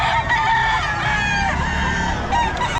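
A crowded flock of chickens at a poultry market in Bocaue, Philippines clucks and crows continuously, many birds overlapping loudly and close, with a steady low rumble underneath.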